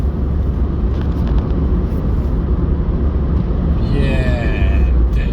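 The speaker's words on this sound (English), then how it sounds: "Listen at that mighty diesel engine sound." A Citroen C1 1.4 HDi diesel car engine running, a steady low rumbling drone heard from inside the cabin with a faint whine rising near the end.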